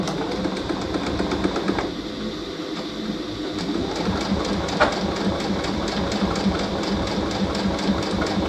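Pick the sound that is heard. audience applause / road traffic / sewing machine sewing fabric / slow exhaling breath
sewing machine sewing fabric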